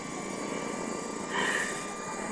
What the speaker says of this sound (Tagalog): Ayan, iikot yung drone natin.